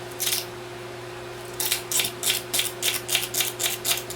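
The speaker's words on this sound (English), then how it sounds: "So then I'll dice those." Rapid, even knife chops dicing root vegetables on a cutting board for red beans and rice, a quiet pause followed by a steady run of close, crisp strikes.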